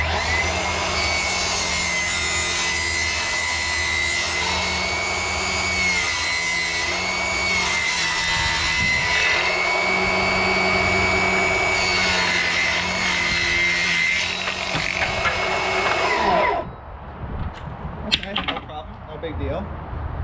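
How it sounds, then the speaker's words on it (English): A Milwaukee cordless table saw rips through a thin cedar fence board, giving a loud, sustained whine with steady blade noise that stops abruptly, leaving quieter rustling afterward. "First, we'll be cutting a cedar fence board, 3/4 inch, 5/8, something like that."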